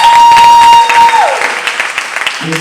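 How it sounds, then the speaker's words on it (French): Applause at a slam poetry concert, crowd clapping and cheering under a sustained tone that glides down, then loose scattered claps fading out as the clip ends. "je voudrais qu'on applaudisse très fort."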